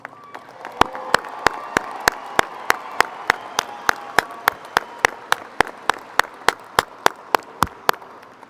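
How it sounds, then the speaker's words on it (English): The graduating class of 2023 at Doherty High School's graduation ceremony draws applause: scattered crowd clapping under sharp, evenly spaced loud claps, about three per second, continuing throughout. "Give them a round of applause."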